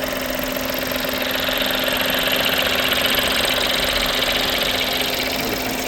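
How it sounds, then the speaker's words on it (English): A Ford B-Max engine idling steadily up close, a constant low rumble with a slight knocking texture and a faint whine, unchanging throughout, no voices. "I have left the engine running."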